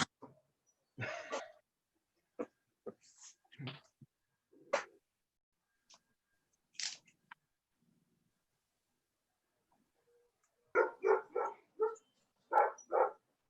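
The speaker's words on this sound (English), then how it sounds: "is that my dog's barking in there?" Dogs bark indoors in short scattered bursts, then a quick louder run of several close barks near the end, with quiet gaps between.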